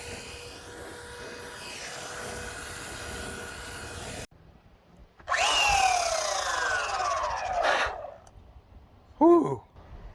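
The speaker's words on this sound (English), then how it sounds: "3 days of sanding this beast. So sick of it. I hate the sander now." A power sander works over the body of an old-style camper truck: a steady whine that cuts out, then returns as louder, harsher grinding bursts with a sharp rising squeal near the end.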